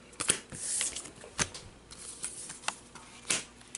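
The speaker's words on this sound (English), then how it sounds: "Let me shuffle." Marvel Legendary game cards are shuffled up close in quick riffling bursts and sharp snaps, irregular and fairly soft, with no talking.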